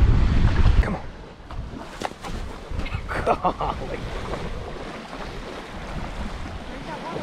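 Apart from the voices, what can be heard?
strong wind on a boat at sea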